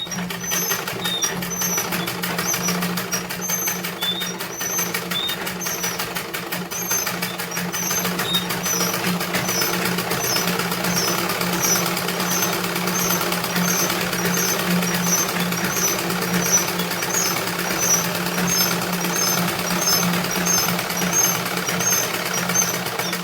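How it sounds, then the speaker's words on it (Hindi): A sewing machine running steadily while stitching a salwar, a continuous even mechanical whir and rattle that holds at a constant level without pauses. "तो देखिए, हमने ये बैठा के सिलाई कर रही हूँ"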